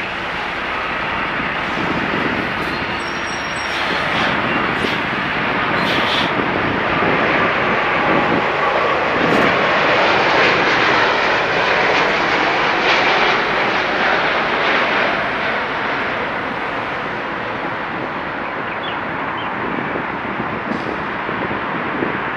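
A China Southern Airbus A330 landing in fog, its engines a broad, steady roar that swells slightly and holds for over twenty seconds at moderate distance, with no talk.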